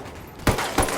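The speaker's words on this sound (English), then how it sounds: "Opening fire." Gunfire in the video game Ghost Recon Wildlands: two sharp, loud bursts of shots about a third of a second apart, over a low background rumble.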